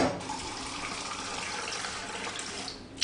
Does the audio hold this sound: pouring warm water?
yes